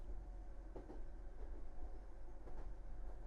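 A train rolls steadily through the night in the Raging Loop video game, a continuous low rumble with soft rhythmic clatter from the wheels, quiet and unbroken with no voices.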